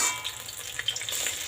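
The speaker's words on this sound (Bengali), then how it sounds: "এই তিনটে কিন্তু বেশ লাল লাল করে কিন্তু ভাজে নিছো" Pointed gourd pakoras deep-fry in hot oil, giving a close, continuous bubbling sizzle with soft crackles and pops and no voices over it.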